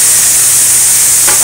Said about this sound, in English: If you keep stirring it, you're going to make sure that not only does the meat not burn, but the noodles don't stick to the grill.